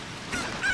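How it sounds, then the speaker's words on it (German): A chicken in an Ocarina of Time hack of the Zelda video game gives two short, squawky honking clucks in quick succession, clear and close, with no talk over them. "hier ist das Huhn"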